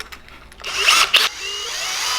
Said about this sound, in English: So I'm gonna drill a bunch of holes by hand for some reason.